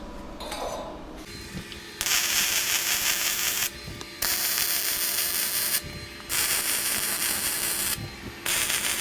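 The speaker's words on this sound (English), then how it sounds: "We'll get that welded." Bursts of MIG-style welding on steel skate rail pieces, four long loud crackling sizzles separated by brief pauses, close up with no talking.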